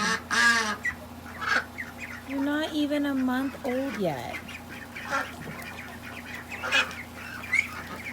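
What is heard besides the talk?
ducklings calling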